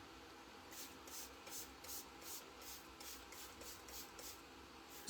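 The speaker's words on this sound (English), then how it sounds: "spray water all over the stencil" A spray bottle mists water over a craft stencil in a quick run of about a dozen short, even hissing bursts. The bursts are faint but clear, with no talk over them.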